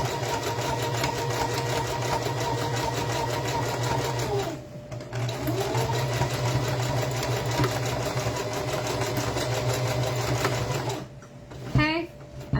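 A sewing machine runs steadily at close range for several seconds, pauses briefly, then runs again, stitching forwards and backwards to lock the stitches on a horsehair bow, with a few soft handling clicks at the end.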